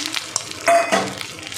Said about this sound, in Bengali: এবার ডিমের কুসুমগুলো ভেজে নেব